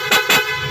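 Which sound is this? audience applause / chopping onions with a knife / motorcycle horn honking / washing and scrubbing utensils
motorcycle horn honking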